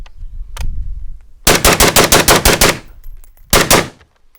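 Bursts of rifle fire from a Steyr AUG A3: a lone shot, then a rapid string of about ten sharp, loud cracks, a pause, and two more quick shots, with no talking.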